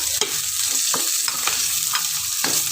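Onion and garlic fry in a pan for pakbet, a steady close sizzle broken by regular scraping strokes of a stirring spoon.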